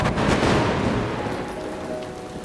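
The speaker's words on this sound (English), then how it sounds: "Thunder." Steady rain with a low, rumbling roll of thunder from a storm, broadband and fairly loud throughout, no voices.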